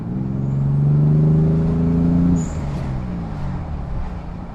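A car engine revs while driving with the windows down, the pitch climbing to a loud peak, then dropping back into a steadier road rumble and wind noise.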